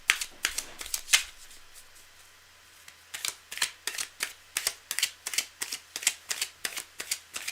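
Tarot cards being shuffled by hand during a live reading: a quick riffle burst at the start, a pause, then a steady run of crisp, close card flicks and slaps in a regular rhythm, with no talking.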